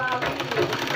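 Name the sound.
sewing machine stitching a child's kurta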